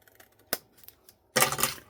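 Scissors trimming a piece of paper for a handmade Christmas tree treat box: a short snip, then a longer, louder crisp cutting stretch, close up with no talking.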